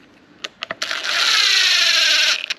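Impact driver snugging screws on a Dewalt 20V cordless orbital sander, giving a few quick clicks and then one loud, close burst of whirring and rattling that lasts about a second before it stops.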